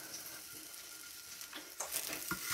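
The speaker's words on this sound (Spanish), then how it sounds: "Ahora los voy a poner a freír." Plantain slices sizzle faintly in hot oil, a soft steady hiss that grows louder and crackles more as pieces go in near the end.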